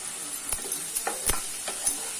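Soft sizzling with a few scraping stirs as mushrooms and spices sauté in a pan, a steady hiss punctuated by light clinks, close and fairly quiet.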